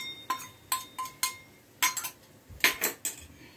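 A spoon clinks sharply against a bowl while stirring masala and Kashmiri red chili powder into yogurt, with about a dozen bright, irregular taps in quick bursts close up.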